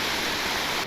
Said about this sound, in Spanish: Llegamos a la otra cachoeira, a la otra cascada.